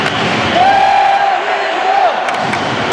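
A stadium crowd roars continuously in support of the Korean team at a football match against France, with a sustained whistle-like tone rising over the dense cheering.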